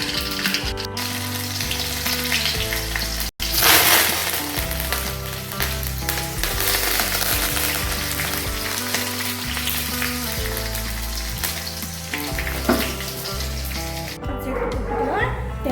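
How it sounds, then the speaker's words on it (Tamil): Mustard seeds spluttering in hot coconut oil in a kitchen pan for ven pongal tempering, a steady crackling sizzle running throughout with busy popping, close and fairly loud, with a brief sharp click partway through. "தேங்காய் எண்ணெய் ஊற்றி கடுகு போட்டு கடுகு பொறிஞ்சிட்டு இருக்குது"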